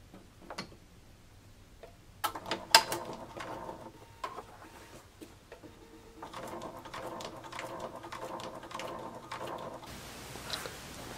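A sewing machine stitches a second row of ribbon onto a fabric sun hat, its needle running in quick ticking bursts with short pauses between runs, close and moderately quiet, with no talk.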